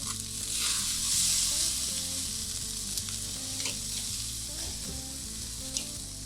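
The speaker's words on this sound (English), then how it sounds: "now that they're seared, I'm just going to give it another minute or so just to finish them off on indirect heat" Tomahawk steaks sizzling steadily on a grill over indirect heat, a continuous bright hiss of fat frying with a few small pops, close and alone over a faint background hum.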